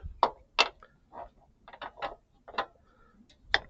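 A ratchet wrench loosening a 19 mm bolt during an R12 to R134 AC retrofit on a 1991 Mazda Miata, giving a series of sharp, close clicking bursts in an irregular rhythm with short pauses between strokes.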